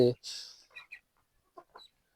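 Chickens cluck in a garden near rabbit hutches, with one short loud call at the start followed by a few softer, brief clucks and chirps spread over the moment.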